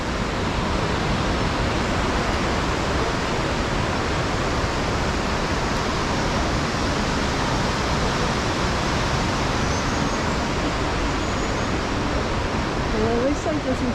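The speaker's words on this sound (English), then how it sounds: "the waterfall is pretty loud" Hidden Falls in Grand Teton National Park roars as a loud, constant rush of falling water that fills the whole scene without a break, with a faint voice barely audible beneath it near the end.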